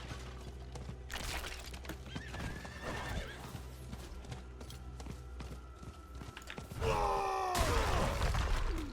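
A horse in the Diablo 4 video game clops along in rapid, regular hoofbeats, then gives a loud, drawn-out neigh near the end, close and clear over a low in-game background.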